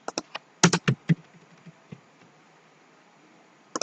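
A computer keyboard typed on in PowerPoint, with a short burst of crisp, close keystrokes and an Enter press, then quiet with a couple of faint taps. A few more keys sound at the very end.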